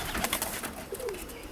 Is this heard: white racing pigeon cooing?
yes